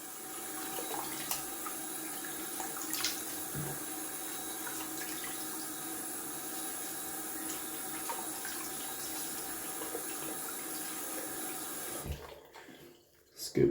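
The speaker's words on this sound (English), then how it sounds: "Let's add some cold water to the beard." Cold water running from a tap, a steady near rush and splash at a sink that continues evenly for a long stretch before cutting off abruptly near the end, with a faint clatter afterward.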